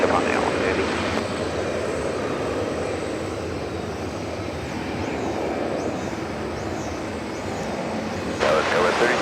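A Boeing 777-300 airliner comes in to land at DFW Airport, its engines a steady, loud roar with a broad wash of noise that holds through the whole stretch, and radio-style voices talk over it.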